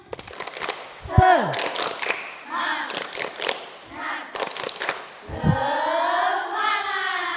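A church congregation performs a rhythmic group spirit clap, sharp patterned bursts of clapping in short sets separated by pauses, mixed with children's and adults' voices chanting along.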